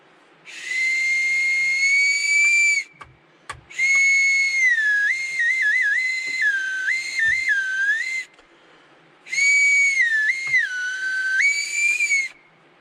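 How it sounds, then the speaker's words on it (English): A small homemade survival whistle blown in three long shrill blasts, the pitch warbling and trilling during each, with brief silent gaps between them. "let me see if I could make a whistle"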